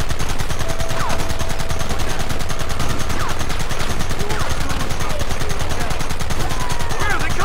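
Dense, continuous gunfire from a Red Dead Redemption shootout, rapid overlapping shots and bursts at steady loudness throughout, with occasional faint game voices beneath.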